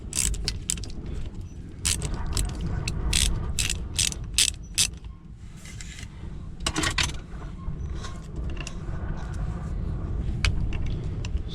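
Ratchet wrench working on the ignition switch bolts of a 1995-1999 GM truck: bursts of rapid metallic clicking with short pauses, close by, over low background rumble, no talk.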